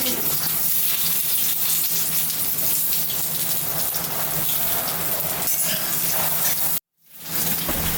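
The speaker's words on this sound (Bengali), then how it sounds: "তেলটা গরম হয়ে গেছে, এবারে আলুটা ভেজে নেব।" Potato pieces frying in hot oil give a loud, dense, continuous sizzle that hisses like heavy rain. It cuts out abruptly near the end, then swells back in.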